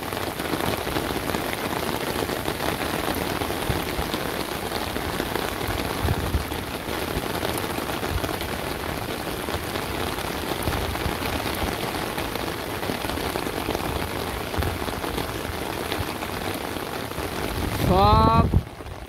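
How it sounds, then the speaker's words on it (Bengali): Steady rain falls on a village, a dense even patter on surfaces lasting throughout at constant loudness, ending with a short burst of louder noise. "আবার আইতেছে অনকর বৃষ্টি আইবো যাইবো আইবো যাইবো।"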